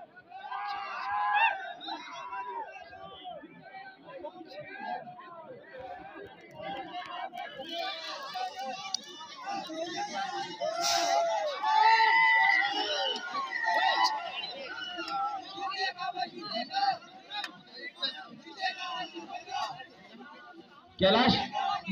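Spectators crowding the court at a kabaddi final, a dense babble of many voices and shouts that swells and persists throughout, with someone talking over the din.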